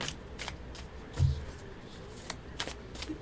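A deck of playing cards being shuffled at close range, a run of soft, quick riffling and flicking bursts with a slightly firmer snap near the middle and little talk.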